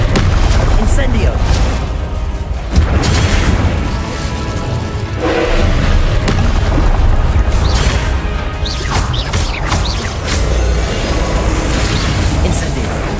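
Incendio fire spells blast repeatedly in Hogwarts Legacy, with loud booming bursts and crackling impacts layered densely over one another amid spell-casting voices.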